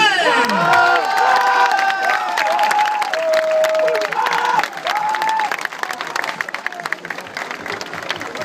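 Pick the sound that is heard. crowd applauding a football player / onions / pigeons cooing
crowd applauding a football player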